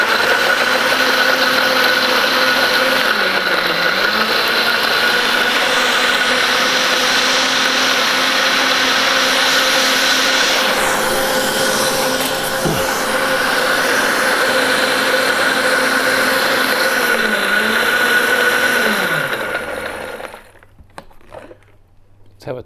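A blender whirs loudly and continuously while blending romesco sauce for a steak sandwich, its motor pitch dipping and rising as the load shifts, then cutting off near the end.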